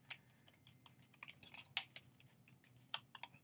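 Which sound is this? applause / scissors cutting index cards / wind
scissors cutting index cards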